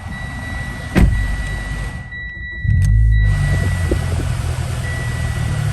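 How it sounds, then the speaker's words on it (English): A Mitsubishi Lancer GSR hatchback is started: the starter whirs after a sharp click, the engine catches and settles into a loud, steady idle close by, with a faint electronic beep tone and no talk. "what I'm going to do right now is I'm going to start the vehicle up"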